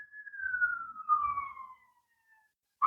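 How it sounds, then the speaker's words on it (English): A single emergency siren wailing outside, one long falling tone fading into the distance, faint low background noise underneath and a short sharp sound at the very end. "and there's sirens out there. Do you hear that?"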